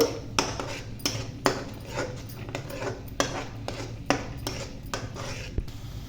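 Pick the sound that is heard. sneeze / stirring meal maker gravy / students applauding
stirring meal maker gravy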